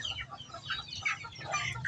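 A brooding mother hen clucks softly and repeatedly at close range, her low calls overlapping with faint chick peeps and a steady low background rumble.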